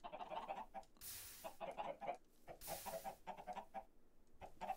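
Minecraft chickens clucking in quick bursts of short, fowl-like clucks, repeated in clusters and broken by two brief hissing sweeps, faint and alone with no talk.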